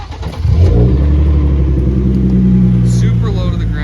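A stock-engined Hyundai Genesis car idles, then its engine rises into a loud, sustained close-up rumble with a steady droning tone, the revving held high under a voice in the background.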